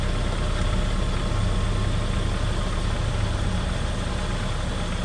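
A Saab Turbo engine idles at a steady low rumble with an even, unbroken hum that lasts throughout, heard up close with no talking.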